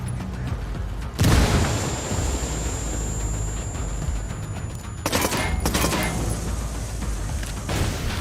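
A grenade blast and bursts of gunfire in Ghost Recon Wildlands: a loud boom hits, dense rattling shots follow, and then a second sharp explosive burst cuts through the continuing firefight.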